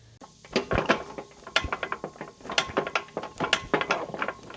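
A wrench working on a tight bolt near a sawmill, a close run of sharp ratcheting clicks and metallic knocks in uneven bursts, repeated strokes over several seconds.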